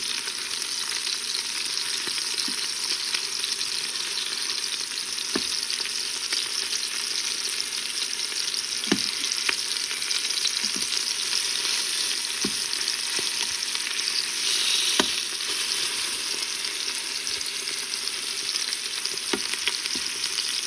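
Pork carnitas sear inside an Instant Pot, an even, steady frying sizzle with occasional soft knocks and clicks, close and uninterrupted, no voices.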